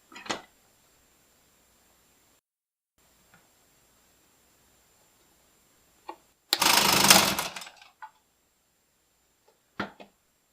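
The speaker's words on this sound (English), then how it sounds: "I don't have anything better than this scroll saw to cut things with" A scroll saw bites into very dense, very hard wood in one loud burst of about a second and a half, framed by faint clicks and a couple of short knocks in otherwise quiet surroundings.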